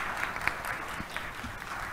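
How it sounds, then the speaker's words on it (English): A crowd at an event gives a round of applause, soft and distant, a thin continuous patter of clapping with a few sharper claps standing out. "A big round of applause for him."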